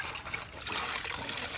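Small fish are rinsed in pond water, a continuous close splashing and sloshing of water with no pauses throughout.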